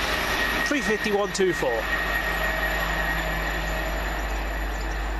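A London Midland passenger train on the Birmingham New Street to London Euston service, passing at Lea Hall as a steady broadband rumble and hiss that runs throughout, with a short burst of talk near the start.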